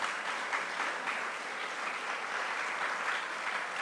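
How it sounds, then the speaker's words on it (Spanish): A conference audience gives steady, even applause to a state tourism official, a dense wash of clapping heard at some distance from start to finish. "Démosle un fuerte aplauso"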